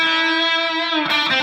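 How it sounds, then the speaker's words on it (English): Sustained electric guitar lead note, boosted and compressed with delay, ringing with rich harmonics before a brighter, distorted attack cuts in near the end; loud and close with no voices. "turns on a boost compressor to give me some lead tone, and I turn on the delay"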